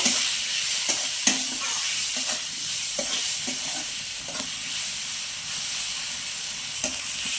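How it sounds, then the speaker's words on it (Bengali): Chopped tomatoes with salt and turmeric frying in a pan, a continuous close sizzle broken by repeated scraping stir strokes at irregular intervals. "টমেটোটাও আমি ভালো করে ভেজে নেব।"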